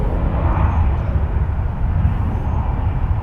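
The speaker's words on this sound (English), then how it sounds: "we got an Airbus A320 coming in from Nassau" An Airbus A320 airliner comes in to land at Charlotte airport, heard as a steady, broad engine roar with deep rumbling low end. It is fairly loud and distant, with no voices.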